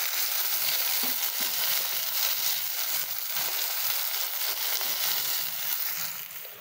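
An egg fries in a hot wok with a continuous, even crackling sizzle, close and moderately quiet, easing off slightly at the end.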